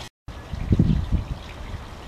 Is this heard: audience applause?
no